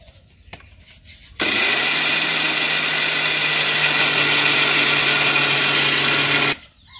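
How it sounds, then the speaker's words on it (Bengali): A mixer grinder grinds sun-dried rice into flour, roaring in loud and steady for about five seconds after a quiet start, then cutting off abruptly. "খুব সহজভাবে আমি মিক্সার মেশিনে আতপ চালের আটা বানিয়ে নিতেছি।"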